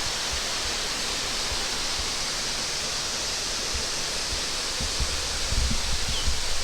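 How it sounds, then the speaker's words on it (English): Water pours continuously down a waterfall feature beside the A1 highway in an Australian town, a broad steady rush with faint low thumps and rumbles rising slightly toward the end. "they got this beautiful waterfall, bit of a water feature"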